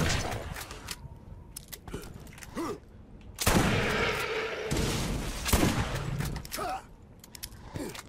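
Explosive gunfire and blasts from a rocket launcher and grenades in the Borderlands video game, with repeated loud bursts and a sustained rumbling barrage through the middle, interspersed with short sharp shots.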